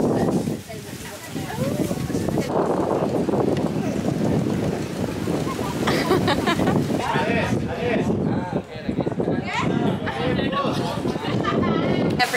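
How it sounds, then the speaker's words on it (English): Strong gusts batter an open-air balcony in Thailand, roaring and buffeting loudly with a generator running beneath, while someone talks over the noise. "it's very windy and we've got like a generator on our balcony"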